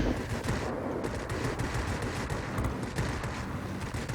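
Spitfire XIV guns fire in World of Warplanes as a loud, continuous stream of rapid machine-gun shots that runs without a break for about four seconds, with no voices over it.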